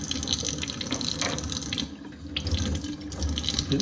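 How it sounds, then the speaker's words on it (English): Water runs steadily from a tap, splashing and gurgling as an inking brush is rinsed point-down under the stream, close and fairly loud. "Put it in the water, point the brush down so the water doesn't go this way."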